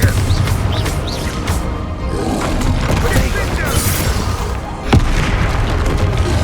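Confringo fire spells burst in a Hogwarts Legacy battle, a dense roar of booming blasts and crashes running throughout, with a sharp hit near the end and a voice talking over the fighting.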